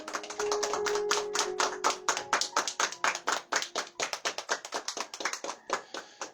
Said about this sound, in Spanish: Pueden darle una ofrenda de palmas a Dios, hermanos.